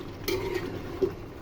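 A beef and potato curry being stirred in a pot, giving a few soft scraping and clinking strokes with steady low kitchen background and no talking.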